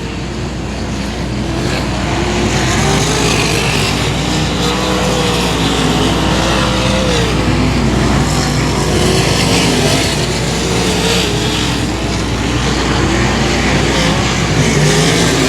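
Factory stock race cars lap the 281 Speedway oval during a Saturday-night race, their engines forming a loud, continuous roar that swells and fades slightly as the pack circles, with no clear talking over it.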